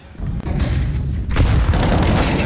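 Gunfire in a Counter-Strike match on the Overpass map, with loud close booming shots and bursts that come in dense, overlapping waves.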